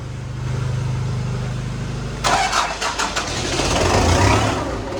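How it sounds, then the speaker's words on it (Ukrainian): An MTZ tractor's engine is cranked with a steady starter grind, then catches and fires into a rough, loud running rumble with uneven bursts as it settles. "нагрів блок, але трактор завівся"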